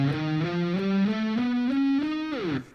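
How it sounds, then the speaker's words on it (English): Distorted electric guitar plays an A whole tone scale up a single string, about six sustained notes stepping upward in even rhythm, close and loud, with a final note sliding down and fading. "Here's how the A whole tone scale looks like when I just play it on one string."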